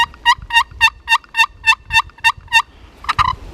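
A turkey call makes a steady run of about nine evenly spaced, raspy hen yelps while hunting a gobbler, followed by a quick closing pair of notes, close and loud.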